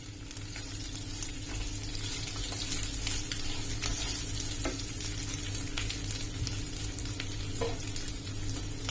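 Four medium potatoes sizzle and fry steadily in a hot pan for a fasting-day dosa vegetable dish, a continuous close crackle with occasional stirring and no talk.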